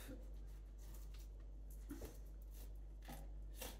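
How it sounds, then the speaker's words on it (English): A knife rasps along the bones of a whiting while it is filleted, giving soft repeated scraping strokes up close, with a few sharper scratches standing out over a low steady hum. "You should be able to hear the rasping of the bones on the knife."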